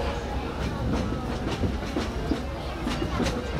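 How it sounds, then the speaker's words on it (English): The Disneyland Railroad train rolls along its track through the park, a continuous close rumble with regular clickety-clack beats from the wheels and no voices over it. "please remain seated until the train comes to a complete stop"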